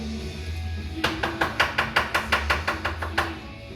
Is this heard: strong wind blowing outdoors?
no